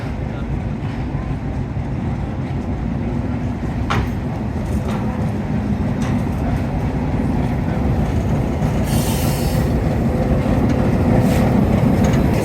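The Uttarbanga Mail passenger train runs with a steady, dense rumble and rattle of carriages, heard from on board at close range. The noise stays constant throughout, with occasional knocks over the track.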